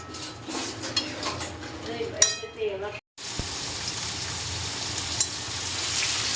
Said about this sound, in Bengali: এই দেখো বাঁধাকপি করবো তার জন্য আলু ভেজে নিচ্ছি